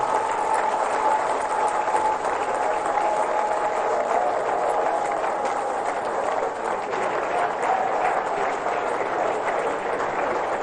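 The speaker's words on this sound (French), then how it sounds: "Je vous prie d'applaudir très très fort." Steady applause from a crowd at the inauguration of the FECAFOOT headquarters, dense and continuous throughout with no voices rising above it.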